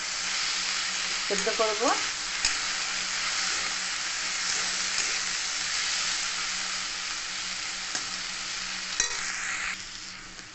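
Potato and onion with turmeric and salt stirred in a hot pan, a steady loud sizzle with scraping stir strokes throughout, and a brief spoken word near the start.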